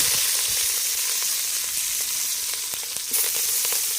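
Sliced onions and green chillies sizzle in very hot oil for a village-style country chicken curry, a dense continuous frying hiss with small crackles and a couple of stirring clicks, close and steady, no voices.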